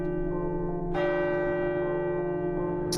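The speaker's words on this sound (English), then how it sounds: "Why are we ringing the bell?" A large bell rings in the video game Abiotic Factor, a sustained resonant toll with a fresh strike about a second in and another at the very end, clear and alone without speech.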